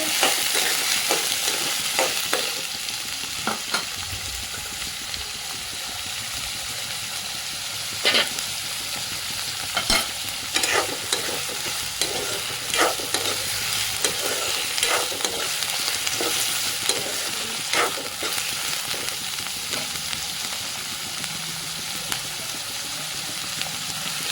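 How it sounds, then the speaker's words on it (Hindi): Onions fry in hot oil with a continuous sizzle, broken by repeated sharp scrapes and clacks of a spatula stirring the pan, close and fairly loud with no voices. "तेल गरम हो गया है। प्याज को भून के"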